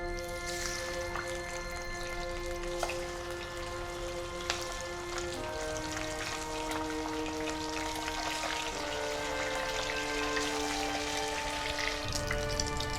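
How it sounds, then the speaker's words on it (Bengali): Pieces of catfish frying in hot oil in an open-air kitchen, a steady close crackling sizzle that runs unbroken throughout, with no voices. "বাকি মাছগুলো আমি ভেজে তুলে নিয়েছি।"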